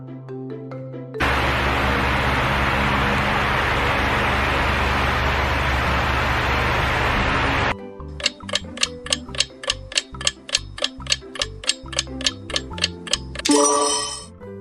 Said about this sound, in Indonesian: Ya, ini adalah suara kipas angin.